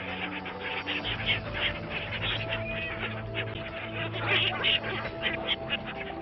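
Ducks quack repeatedly at the Triveni Sangam river in Prayagraj, a busy cluster of calls over steady outdoor ambience with no clear talk.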